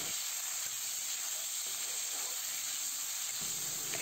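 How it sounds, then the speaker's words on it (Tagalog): Onion, garlic and chopped tomato sautéing in a pan for dried anchovies with oyster sauce, giving a steady, even sizzle and hiss that runs on without a break, with no talk over it. "Gisayin lang natin yan hanggang sa lumambot na ang kamatis."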